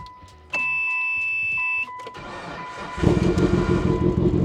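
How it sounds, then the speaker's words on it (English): An abandoned Mitsubishi Lancer Evolution VIII sounds a sustained electronic warning chime, then its engine catches and settles into a loud, rough, steady idle close by. "So yeah, we have normal idle again."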